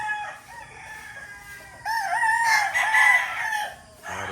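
Roosters crow nearby at a wet early-morning rooster farm, one long call followed by overlapping cock-a-doodle-doos from more birds, fairly clear against a quiet background.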